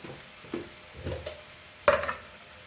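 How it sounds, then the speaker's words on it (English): Turmeric powder gets mixed into frying chilies for poha, with a few sparse, quiet stirring scrapes against the pan over a faint sizzle, the last stroke the loudest. "turmeric powder and mix this all nicely"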